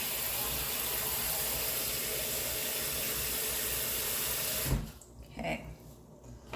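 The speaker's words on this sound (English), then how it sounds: "So I'm gonna fill that up with water and let it sit" Tap water running hard into a bowl of rice noodles for a vegan pad thai, a loud steady rush for several seconds that cuts off abruptly, followed by a few small clinks and drips.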